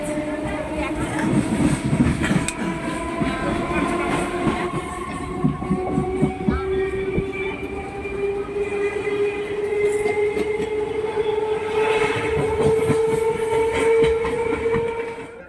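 A passenger train heard from inside a carriage, with a loud, steady rumble of wheels on the rails, rhythmic clickety-clack and rising tonal whines as it moves, all running unbroken through the whole stretch.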